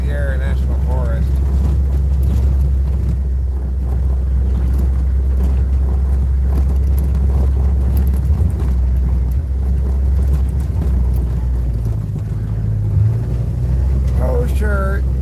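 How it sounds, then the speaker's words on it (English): A vehicle travels down dusty, bumpy forest roads in the Sierra National Forest in autumn, giving a steady, close, low rumble throughout with a few bumps and shifts in the drone. "driving down these roads is a little dusty. And oh, sure, there are some bumps and stuff"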